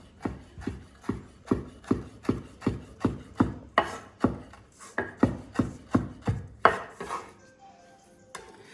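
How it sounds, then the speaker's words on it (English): Knife on a cutting board chopping fresh tarragon for a strawberry relish: a steady run of crisp, close, evenly spaced chops, about two per second, slowing and thinning out near the end. "Gonna chop up some fresh tarragon."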